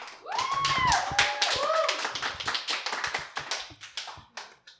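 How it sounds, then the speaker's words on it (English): Small audience clapping at a live podcast recording in a wine bar, a close, uneven patter of separate hand claps that fades out gradually, with voices and a whoop over the start. "Give a round of applause."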